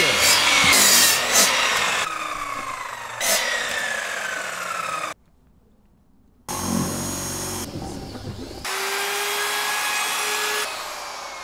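Planed square timber being cut to length with a saw, giving repeated sawing and rubbing strokes in several bursts and separated by a short silent gap. No one speaks.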